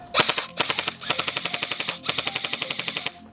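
A G&G CM16 M4 airsoft gun fed from a high-capacity magazine fires three rapid full-auto bursts, each a rattling string of sharp, evenly spaced mechanical cracks, close and loud.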